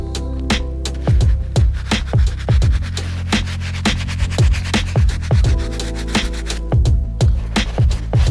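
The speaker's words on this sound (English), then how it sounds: "So we're gonna continue using the soft bristle brush to get all that cleaned up." A soft bristle brush scrubs the dirty tongue and insides of a worn thrift-store Adidas Superstar sneaker, giving repeated close, brisk strokes in uneven rhythmic bursts with short pauses, no talking.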